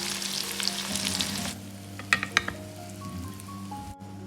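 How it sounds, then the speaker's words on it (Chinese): Chili pork is stir-fried over high heat: a loud hissing sizzle fades after a moment, then a few sharp spatula clanks ring out before a quieter stretch with a low hum. "最后开大火快速的翻炒几下，化开调料"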